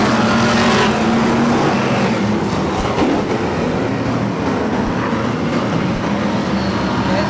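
V8 stock cars roar loudly past the finishing line at an oval race meeting, a dense continuous engine rumble close by with no voices.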